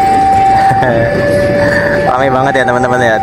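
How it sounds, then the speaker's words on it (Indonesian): The Lodaya train passes along a street in Yogyakarta with a loud, steady droning tone that shifts in pitch partway through, while a crowd talks loudly nearby. "Pada mau lihat kereta api lewat aja seneng banget."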